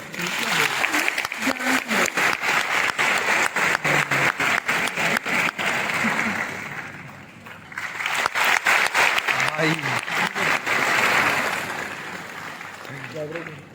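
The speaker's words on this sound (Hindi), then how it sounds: "give a big round of applause for this." An audience at a civil services exam coaching talk claps loudly in a long, dense round. It briefly fades midway, then surges again, with some voices underneath.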